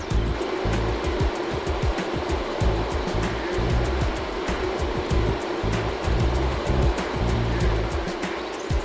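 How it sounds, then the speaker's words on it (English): Ozone gas diffused as tiny bubbles into wastewater in a large concrete treatment tank produces a loud, continuous rushing roar with dense bubbling and churning, steady throughout. "we diffuse the ozone into the water as tiny bubbles"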